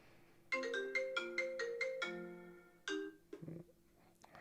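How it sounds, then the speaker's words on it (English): A phone ringtone plays nearby and fairly loud, a quick melodic run of electronic chimes repeating, then cutting off with a short rustle. "I don't know why my phone just rang."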